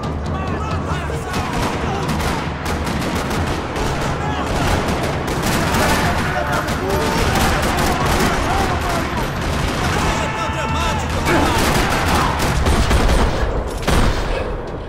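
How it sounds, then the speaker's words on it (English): Rattling gunfire fills a parking lot shootout in the Max Payne 3 video game: dense bursts of automatic fire and single shots crackle continuously for about fifteen seconds, with loud, overlapping reports throughout. "Another parking lot rattling with gunfire."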